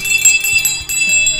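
A bright notification bell chimes repeatedly across a short stretch, with clear ringing tones layered over a low background hum and no talk.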